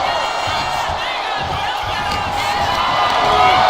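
A wrestling arena crowd roars steadily throughout, dense cheering and shouting from a large audience that swells slightly toward the end, with no clear gaps.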